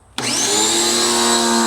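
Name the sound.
Ryobi 1.8 GPM pressure washer spraying with air in hose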